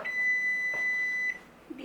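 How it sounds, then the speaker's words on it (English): A kitchen timer beeps in the kitchen while kale chips bake in the oven, a single long, steady, high electronic tone that cuts off abruptly, followed by quiet room noise. "Beep, beep. Alright, so my timer went up again."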